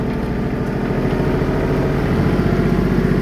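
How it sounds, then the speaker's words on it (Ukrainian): A Kubota GT23 compact tractor's 23-horsepower three-cylinder diesel runs steadily close by, a loud continuous low chugging drone with no talk over it. "Хороший приємний звук мотора."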